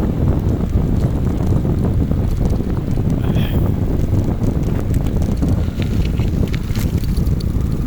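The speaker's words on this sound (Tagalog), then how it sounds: "Sarap ang hangin." Strong outdoor wind roars steadily across the microphone, a loud, continuous buffeting rush with no pauses and no talk.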